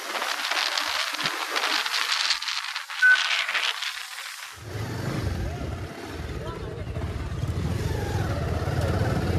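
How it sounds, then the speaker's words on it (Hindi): A motorcycle ridden on a road in Jammu starts with heavy wind rush buffeting the microphone, then gives way to a steady, low engine rumble as the bike pulls ahead at speed. "अभी यहाँ से थोड़ा बाइक खींच देंगे हम आगे तक।"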